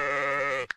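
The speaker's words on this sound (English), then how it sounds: "Then they can have sheep" A single loud, close sheep bleat in the video game WorldBox, drawn out and nasal, ending abruptly with a short sharp click.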